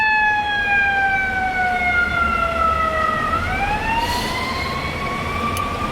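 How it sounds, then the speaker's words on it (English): A loud ambulance siren wails steadily, its pitch sliding down and then rising again as it passes close by, with traffic rumble underneath. "We got an ambulance."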